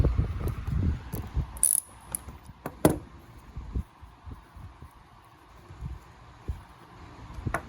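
An Echo string trimmer head is worked loose by hand, giving a run of ratcheting clicks and clacks, with some sharp knocks and a few quieter rattles in between.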